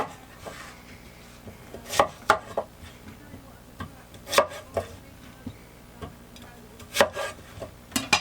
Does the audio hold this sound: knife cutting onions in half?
yes